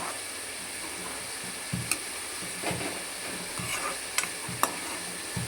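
Onions fry in a pan for mutton keema chicken curry under a steady soft sizzle, with occasional scrapes and taps of a spoon stirring them, and no talk.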